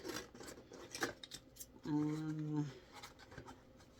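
Scissors snip through the paper of a prescription instruction booklet, a short close cutting stroke in a quiet room with some soft handling noise around it.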